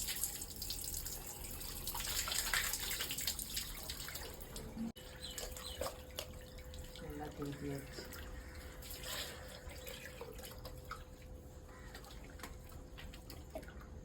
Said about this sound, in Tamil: பாருங்க ஃபுல்லா தண்ணி விட்டார் அதுல தூக்க முடியாது எப்படி கிளீன் பண்றாரு பாருங்க